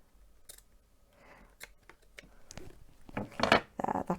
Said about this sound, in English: I'm actually just going to cut a little bit more excess off that. I'll use my big clunking scissors.